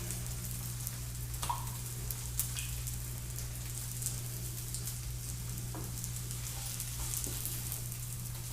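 Savoury French toast sizzles steadily in a frying pan, an even crackling hiss sprinkled with faint pops and small clicks, with a constant low hum behind it and no talking.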